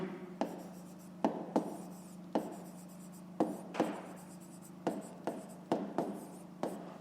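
A pen writes numbers by hand on paper for a fifth-grade maths exercise, making a steady series of close, crisp scratching strokes at a quick, uneven rhythm, with no voices.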